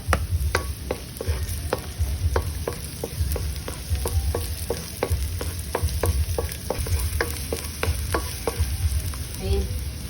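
Garlic and onion stir-frying for luncheon meat fried rice: a steady close sizzle runs throughout, broken by frequent sharp scrapes and taps of a spatula in a rhythmic stirring pattern, with no talking.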